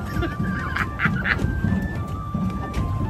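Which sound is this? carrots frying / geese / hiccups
geese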